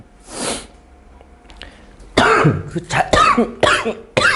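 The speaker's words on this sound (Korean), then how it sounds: "그러니까 말을 못하겠어. 기침 때문에." A hoarse throat-clearing cough first, then a quick run of harsh, close coughs that come in bursts.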